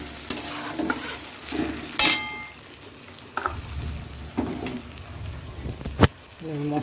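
Onions fry in a hot pan, sizzling steadily while a utensil stirs them in several scraping bursts, close and fairly loud.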